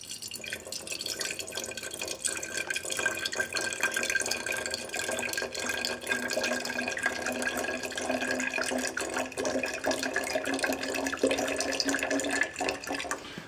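Plain apple juice pours steadily into a container for homemade cider, a continuous close liquid stream that trickles and splashes evenly throughout with no talking.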